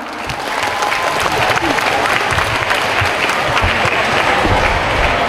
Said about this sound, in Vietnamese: chào mừng sự có mặt của quý vị đại biểu bằng một tràng pháo tay thật lớn ạ